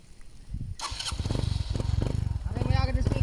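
A motorcycle engine starts up and runs close by, its steady throbbing idle continuing under voices talking throughout.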